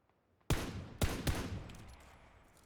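Gunfire in the battle royale game PlayerUnknown's Battlegrounds: three sharp shots in quick uneven succession, close and loud, each leaving a lingering echoing decay.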